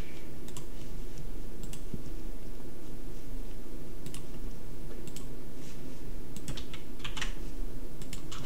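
Fingers tap out a password on a computer keyboard while setting up a VNC server on an Ubuntu virtual machine, giving a steady run of close, crisp key clicks over a low background hum, with no talking.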